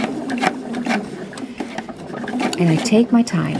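Domestic sewing machine running a regular stitch with a short back stitch, a close mechanical whirring in bursts with rapid ticking, under steady talk.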